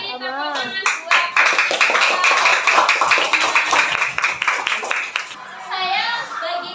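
Classroom of schoolchildren clapping together during a lesson, a dense burst of applause lasting several seconds with children's voices mixed in at the start and end.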